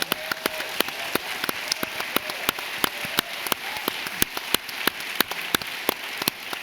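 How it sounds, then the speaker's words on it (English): Audience applause at the White House Conference on Hunger, Nutrition and Health, a fairly quiet, steady patter of many hands with a few sharper individual claps standing out. "I hope you all give her a round of applause"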